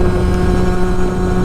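A Sherco 50 SM motorcycle with a sport pipe, its small engine screaming at very high revs, a loud, steady, sustained drone with strong wind rush, no speech.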